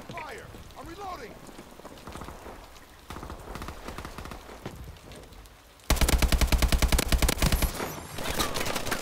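Gunfire in a video game firefight: scattered shots, then a loud rapid automatic burst of evenly spaced cracks, with players talking over the action.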